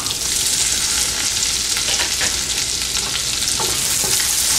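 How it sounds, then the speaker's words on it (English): Chopped onion frying in hot oil for peas pulao, a steady loud sizzle with broadband crackle and a few stir scrapes, no voices. "Now I am going to add our chopped onion."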